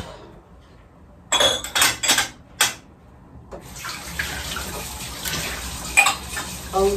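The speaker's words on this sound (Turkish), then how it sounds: "Bu bulaşıkları da bir halledeyim" Dishes washed under a running kitchen tap: water flows steadily with clinks and knocks of dishes and cutlery, loud and close, briefly interrupted near the start.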